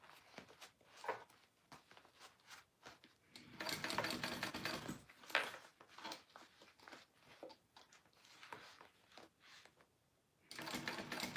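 A sewing machine stitches a Delmar wristlet in several short, close bursts separated by pauses, with light handling noises between runs.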